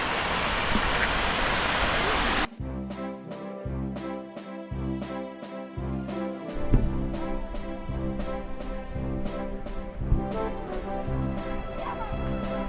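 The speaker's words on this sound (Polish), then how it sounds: "Tutaj jest taki gejzer, tam drugi gejzer. A tutaj ala wodospad." Rushing water from fountain jets and a cascade at Schönbrunn gardens in Vienna hisses loudly for a couple of seconds, then cuts off and rhythmic music takes over.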